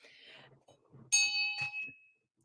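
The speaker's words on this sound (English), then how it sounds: "I heard an echo. It might be this bell." A small bell rings with one bright, clear strike that hangs for about a second, then a softer second tap, heard alone after some quiet rustling.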